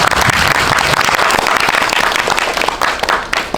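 At a film talk event, the audience gives an actor a loud, close round of applause, dense clapping that stays strong and then tapers slightly near the end.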